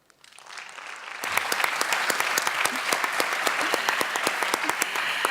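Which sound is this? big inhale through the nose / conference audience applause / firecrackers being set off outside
conference audience applause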